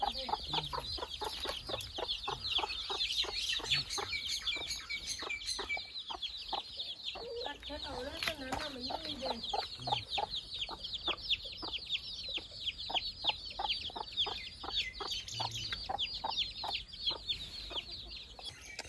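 A hen with her newly hatched chicks clucks in low, repeated calls while the chicks peep constantly in high, rapid chirps, close by and fairly loud, with an occasional louder squawk.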